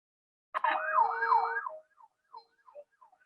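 An emergency vehicle's siren wails in a rising and falling pattern, loud and close for about a second, then repeats in fainter, broken bursts as a medical team heads out to a multi-victim car accident.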